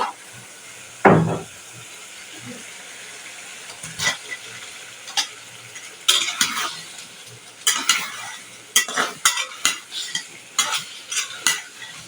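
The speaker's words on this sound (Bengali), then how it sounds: "এখন মাছগুলোকে ভালো করে কষিয়ে নেব" Fish frying with potatoes and spices in a pan, with a soft sizzle under repeated scraping and clacking of a utensil stirring, close and intermittent, the stirring strokes becoming frequent toward the end.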